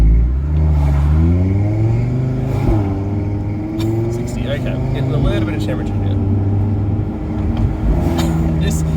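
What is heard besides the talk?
sports car engine accelerating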